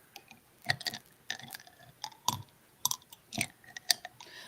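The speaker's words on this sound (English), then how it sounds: "It sounds like someone's crunching something." Sharp, irregular crunches of chocolate-covered espresso beans being chewed close to a microphone, a dozen or so crisp snaps in quick uneven bursts with no talk.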